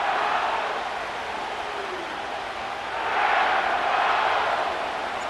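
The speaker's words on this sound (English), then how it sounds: "The crowd is definitely ready." Stadium crowd noise in an EA Sports NFL video game at SoFi Stadium in Inglewood, a steady distant roar of many voices that swells briefly midway, with no talk over it.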